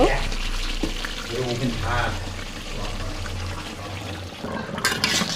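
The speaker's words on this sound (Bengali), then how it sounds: "এর ভিতরে এবার আমি গরম পানি দিয়ে দেব" Hot water poured into a pot of thick cow's foot nihari makes a continuous splashing pour close by, while someone speaks over it.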